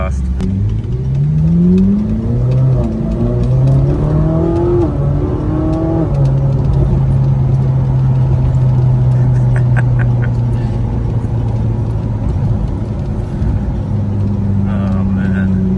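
Ferrari 458 Spider with stock exhaust revs hard and rips through a series of downshifts, loud and close, engine pitch climbing and dropping repeatedly before settling into a steady drone, with voices talking over it.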